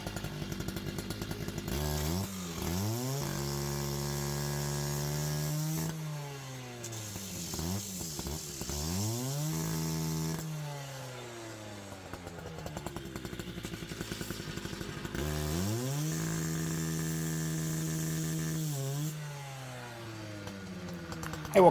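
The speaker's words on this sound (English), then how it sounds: "I will cut the bed frames into smaller segments" A power tool saws through old thrift-store metal bed frames, its motor whining and bogging as pitch sweeps up and down in repeated passes, loud and close for the whole stretch.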